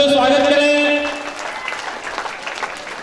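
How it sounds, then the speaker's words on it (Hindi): An audience at a Teacher's Day school ceremony breaks into applause that swells into a steady patter of clapping and keeps going under someone speaking over it. "जोरदार तालियों से स्वागत करें"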